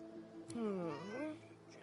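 A cat in Divinity: Original Sin 2 gives a single drawn-out, rising and falling meow, close and clear against quiet background ambience.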